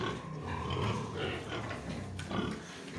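A young breeding sow grunts on a farm in low, repeated snorts close to the microphone across the whole short stretch, with a faint hint of voice in the background.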